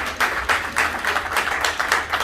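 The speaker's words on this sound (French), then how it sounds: "Applaudissez pour les témoins." Steady applause and clapping from a wedding crowd greeting the witnesses at a ceremony, a dense rhythmic patter of many hands lasting the whole moment without talk.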